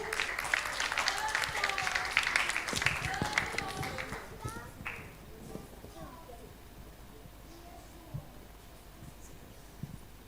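Applause at a church vacation Bible school closing, lively clapping mixed with children's voices and bustle for a few seconds, then tapering off into a quieter room with occasional knocks.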